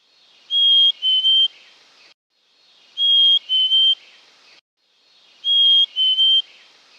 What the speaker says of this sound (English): The black-capped chickadee has a compact song with no pitch sweeps.